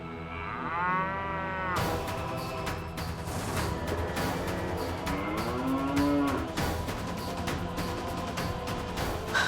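A cow moos loudly several times, long drawn-out lowing calls close by, with a rustling background between them.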